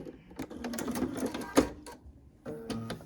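A sewing machine stitches quilt pieces for a Stars in the Storm quilt in short, close bursts of whirring with brief pauses between runs, including a sharp clack midway.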